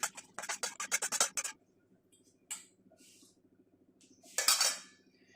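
Cooked Bengali dohi katla fish curry is scooped from a pan into a bowl, with quick clinking scrapes of a metal spoon against cookware, then a pause, a lone knock and a final scraping clatter.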